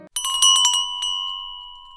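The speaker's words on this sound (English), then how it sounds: "the sound of a small bell rang above her head" A small bell above a shop door rings as the door opens, a bright cluster of jingling strikes followed by a clear, sustained ring that slowly fades over about two seconds, close and alone.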